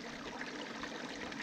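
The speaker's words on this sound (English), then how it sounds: "Beautiful creek, just flowing water" A creek in the Canelo Hills of Arizona flows steadily, a soft broadband rush and trickle of water with no break and no voices.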